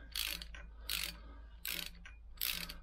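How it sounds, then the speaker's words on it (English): A ratchet tightens a nut on a Lambretta scooter during an ethanol rebuild, four short bursts of quick metallic clicking separated by pauses, close-up over a low steady hum, with no voices. "It'll just come back with a ratchet."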